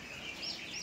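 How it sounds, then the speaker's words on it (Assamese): A local backyard chicken gives a brief, soft clucking call, heard close and alone. "আৰু এয়া হ'ল আমাৰ লোকেল মুৰ্গী"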